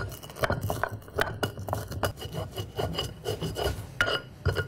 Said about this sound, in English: I'm going to add 1 teaspoon of coriander seed, and we're going to grind it together.